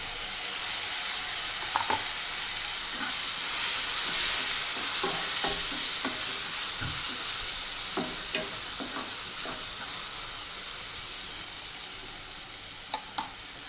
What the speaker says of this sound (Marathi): ह्याला थोडंसं मिनिटभर परतून घ्यायचं. आणि हे टमाटे टाकले.